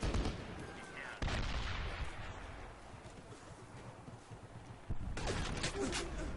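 AK rifle gunfire in the Medal of Honor video game, heavy bursts of shots and rumbling battle noise with sharp loud onsets near the start and again toward the end.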